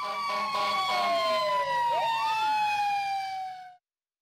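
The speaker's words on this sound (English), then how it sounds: "Fire engine." A fire engine siren effect from a children's vehicle puzzle game: a loud wailing tone that sweeps down, then rises and falls again, heard alone for about four seconds before cutting off.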